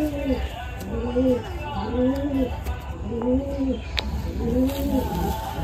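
Madrasi pigeons kept as a breeding pair coo in a regular rising-and-falling rhythm, five or so close calls over a steady background hum.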